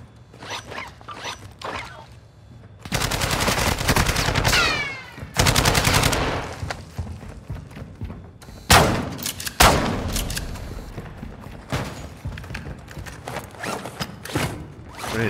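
Bursts of rapid automatic gunfire in a shooter video game, several loud, dense volleys separated by quieter stretches of scattered shots and game noise, with no clear talk.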